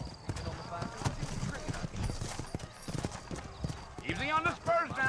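Horse hooves clip-clop in a steady rhythm in Red Dead Redemption, up close and mixed with other horses, and a horse whinnies loudly near the end while someone talks over the hoofbeats.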